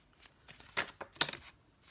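A Yin and Yang Oracle card deck is shuffled by hand, making a few brief, soft riffling bursts close by against a quiet background.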